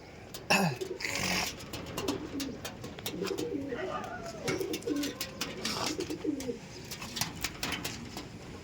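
Andhra pigeons coo repeatedly in a loft, soft throaty calls rising and falling close by, with faint voices and a few sharp knocks in the background.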